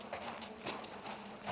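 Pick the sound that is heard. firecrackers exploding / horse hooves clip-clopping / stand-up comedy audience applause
horse hooves clip-clopping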